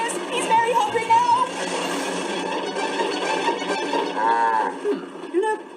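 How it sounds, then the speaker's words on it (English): A cow moos loudly in the animated Thomas and Friends railway world of Sodor, its long drawn-out lowing calls rising and falling steadily over a busy background. "It sounds more like a cow."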